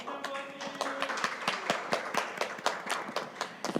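An audience at a youth policy forum claps for a student presenter, a steady patter of many hands heard at a moderate distance, with no talking over it.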